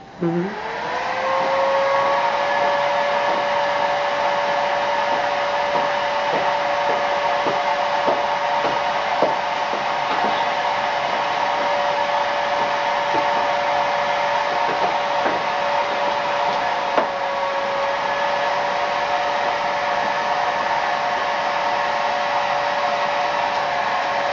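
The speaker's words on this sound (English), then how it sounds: "I would just use that blow dryer." A blow dryer whirs loudly and steadily, starting with a brief rising spin-up, then running with a constant high whine and occasional faint clicks.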